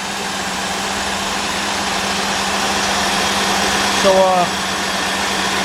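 A 1998 Cadillac Seville STS with a 4.6 Northstar engine idles with a misfire and overheating trouble, a steady low hum and drone with a brief bump near the end; someone says one short word.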